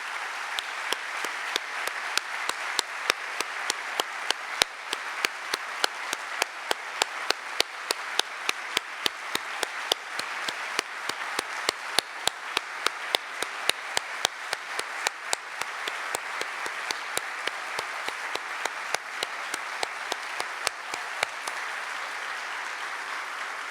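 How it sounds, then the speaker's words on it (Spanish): An audience at a national delegates' congress in Mar del Plata applauds at length. Claps are sharp and evenly spaced, nearly in unison like rhythmic clapping, and hold at a steady level throughout with no talk over them. "quiero un aplauso para el compañero Daniel Crosito"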